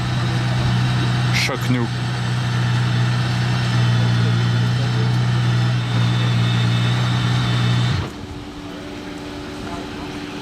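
An Aston Martin Valkyrie stuck in mud holds a loud, steady engine drone with a strong low hum, briefly shifting in pitch before the tone drops abruptly to a quieter idle, while people talk over it.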